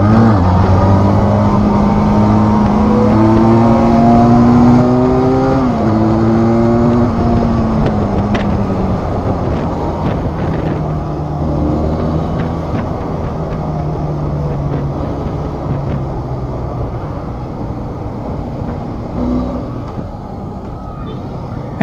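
A 2022 Benelli 502c sport cruiser engine revs and runs steadily, its pitch rising through several climbs then settling to a droning cruise, loud and close with wind and road roar throughout.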